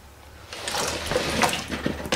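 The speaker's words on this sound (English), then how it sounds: "Saucepan of water." Water runs from a tap into a saucepan in a kitchen, a steady gushing pour that starts after a brief quiet moment and continues to the end.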